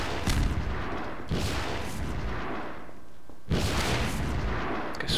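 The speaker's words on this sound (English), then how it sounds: "Let's not stand in the path of the oncoming rockets." Incoming rocket explosions in Half-Life 2 Episode 2 hit close by, heavy booming blasts with long rumbling tails, three big impacts in a few seconds, loud and with no talk over them.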